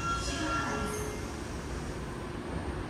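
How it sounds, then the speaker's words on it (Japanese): A Tokyo Metro subway train pulls into a quiet underground station, a steady low rumble of wheels and motors filling the platform with faint squeals at the start. "その前に列車が1本来たので降りる人がいるかどうかちょっと見てみますか"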